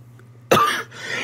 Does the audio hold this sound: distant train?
no